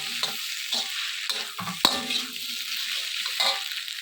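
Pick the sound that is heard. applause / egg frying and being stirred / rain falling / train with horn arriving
egg frying and being stirred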